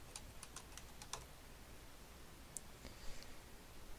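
Typing on a computer keyboard while entering codes and descriptions into a table: scattered light key clicks in a quick burst, then a few sparse taps, faint and close in a quiet room.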